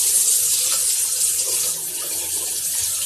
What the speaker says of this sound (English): First, you wet your hands.